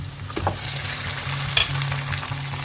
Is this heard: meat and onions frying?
yes